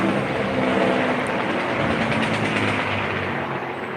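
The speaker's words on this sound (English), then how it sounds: "I think that's a big truck going down the road sounding like that." A big truck passing along a nearby road gives a loud, continuous broadband rumble and roar that holds steady for several seconds and fades slightly at the end, with no talking over it.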